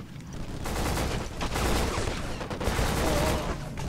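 Intense gunfire from the PS2 shooter Black: rapid volleys and bursts of shots crackle in dense, overlapping clusters with brief lulls, loud and close throughout.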